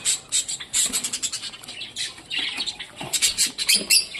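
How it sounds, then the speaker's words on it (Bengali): A pet cockatiel chirps and squawks in short bursts while eating, close up, with scattered pecking clicks in between and no voices. "আমার ককটেল মহারাজা পাখি দেখুন কত সুন্দর খাচ্ছে দেখুন যে কিন্তু খুব সুন্দর সিটি দেয়"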